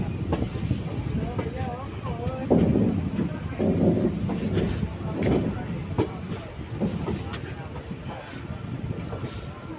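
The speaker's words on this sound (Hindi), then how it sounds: "मसूरी एक्सप्रेस WAP7 के साथ ये चल रही है।" Mussoorie Express, hauled by a WAP7 electric locomotive, pulls out of Doiwala station with a steady rumble and rolling rail noise, fairly loud and close, with voices and station chatter mixed in.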